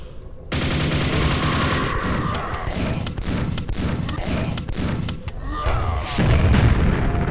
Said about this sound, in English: Shooting nades in low grab is pretty cool.